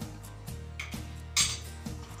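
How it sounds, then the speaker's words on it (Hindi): A metal spoon stirring boiling milk in a pot, giving soft repeated clinks and scrapes against the pot roughly every half second and one sharper clink, near and fairly quiet with no talk. "अब इस तरीके से हम चम्मच से इसे थोड़ा हल्का सा हम चला देंगे"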